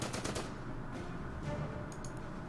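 Machine gun fire from an MG foxhole in the strategy game Order of Battle, a fast run of loud rapid bursts up front that thin into a steady rattling din with a few sharper cracks near the end.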